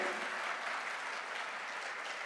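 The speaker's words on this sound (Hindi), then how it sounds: "एक बार जोरदार तालियां होनी चाहिए" Thunderous applause fills a hall at a direct selling promotion celebration, a steady dense wash of clapping from a large audience, loud and close, with no voices over it.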